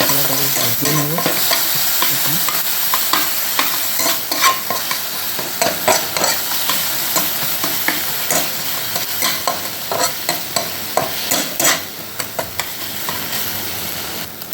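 Cumin and coriander spice paste fries loudly in a pan as fish curry is prepared, a dense steady sizzle broken by frequent scraping stirs of a spatula, close and with no voices.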